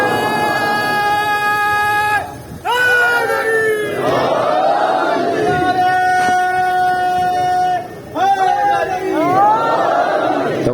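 A crowd at a majlis for the martyrdom of Bibi Sakina chants salawat and slogans in loud, sustained unison, with brief breaks between rising waves of voices.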